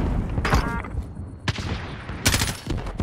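Rapid bursts of automatic gunfire from a Call of Duty Warzone quads match, with several loud volleys cracking close by and overlapping in quick succession.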